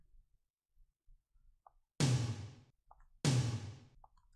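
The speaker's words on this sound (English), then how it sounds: "Some of these tom noises are very, very acoustic." Two deep, resonant drum hits about a second apart, each with a quick attack and a ringing decay, with faint clicks and soft knocks in between.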